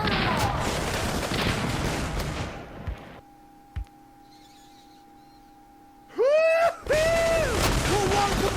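Musket volley fire in the Civil War video game Brother Against Brother: a dense, sustained crackle of massed shots that ends abruptly, followed by near silence with a single isolated report, then loud tonal game sounds.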